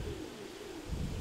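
A grey pigeon coos softly and quite close by, giving a low, murmuring call that rises twice within a second against a faint background.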